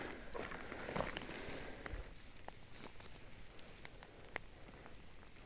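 Light rain patters steadily on surfaces outdoors during a forest mushroom hunt for boletes, a soft continuous hiss with scattered sharper drops and faint rustling.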